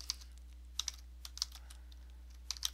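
Typing on a computer keyboard, a handful of sharp, close key clicks in short uneven bursts over a quiet room with a faint steady hum.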